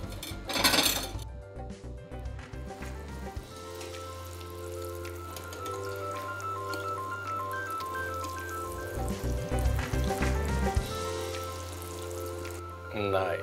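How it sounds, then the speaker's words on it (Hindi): Millet kofta balls frying in a pan give a steady close sizzle and bubbling with occasional clatter, while a person talks over part of it. "चलिए, अब इसको कर लेते हैं फ्राई।"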